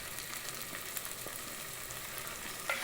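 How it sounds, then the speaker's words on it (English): Onions frying in a pan and being stirred, a soft steady sizzle with faint scraping, heard alone and at low volume. "So I'm just stirring my onions until they turn golden brown."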